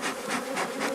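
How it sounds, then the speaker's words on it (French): Dense swarm of honey bees buzzing steadily at a busy hive in good season, a close, continuous drone with gentle pulsing swells. "On peut voir, il y a beaucoup d'abeilles."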